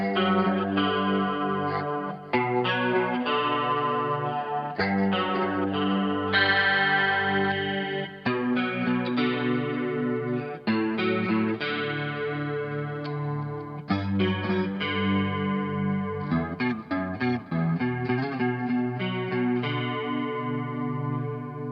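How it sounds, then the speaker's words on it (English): An affordable Jackson electric guitar with ceramic humbucker pickups plays a distorted thrash metal riff, dense chugging chords in a driving rhythm with short pauses between phrases, loud and alone without talk. "These pickups are not that clear, but they're powerful enough to get some nice thrashy guitar tones"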